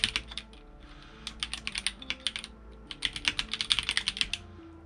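Rapid keyboard typing in bursts of sharp, hollow clacks, close and clear, with a brief pause in the middle and no voices.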